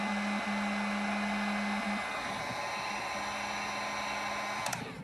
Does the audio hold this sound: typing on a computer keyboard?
no